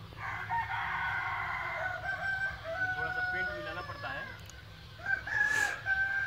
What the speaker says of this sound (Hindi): वो कड़कनाथ का फार्म है, जो मुर्गे बोल रहे हैं आवाज़ सुनाई दे रहा होगा आप लोगों को